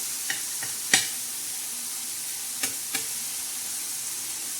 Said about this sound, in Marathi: हे बघा, मस्त अशी परतून घ्यायची छान अशी तेलामध्ये.